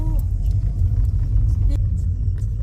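A car climbing a mountain road on the way to an old church, its engine and tyre rumble steady and close throughout, with a faint voice at the start.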